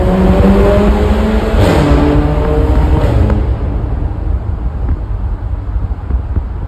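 A VW Scirocco with a custom exhaust running after a cold start, a loud close engine drone with some wind buffeting, then the drone eases to a lower, steadier idle, with no one talking.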